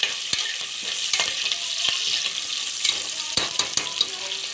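Green chillies frying in oil in a pan for chicken pulao, a constant bright sizzle broken by sharp clicks and scrapes of a spoon stirring, close and steady with no talking.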